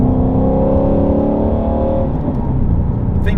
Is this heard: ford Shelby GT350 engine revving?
yes